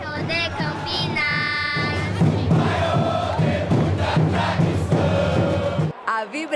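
Atlético-GO supporters in a stadium during a Goianão 2023 match against Crac roar and chant in a dense, sustained crowd sound that fills the whole stretch, with a brief dip near the end.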